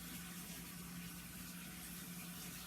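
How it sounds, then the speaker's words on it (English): A hot water tap runs in a steady, even rush of water, continuous and fairly quiet with no voices. "So we'll hear rushing water in the back of this for a while."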